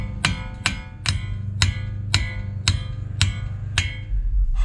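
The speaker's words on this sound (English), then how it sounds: "Now I got a big hammer here." A big hammer beats on a car axle during a wheel bearing replacement on a 2002-05 Ford Explorer or Mercury Mountaineer or 2003-05 Lincoln Aviator, giving about eight loud, ringing metallic blows spaced evenly half a second apart.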